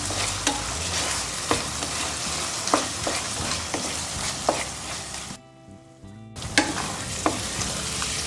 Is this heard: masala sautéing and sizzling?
yes